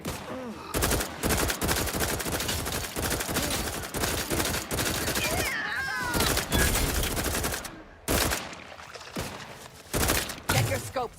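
Dense gunfire in The Outer Worlds 2, made up of loud rapid bursts and volleys with short pauses between them, heard close and continuous, with faint voices in the mix.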